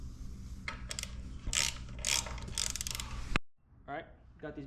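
A ratchet clicks in quick, close bursts while tightening brake bolts on a 2009 Harley Dyna, then cuts off abruptly, followed by a few quieter handling sounds.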